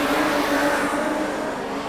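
Modified production race car on the Carina Speedway dirt track during a Queensland title A-Main, a brief sustained engine roar at moderate distance, steady and even throughout.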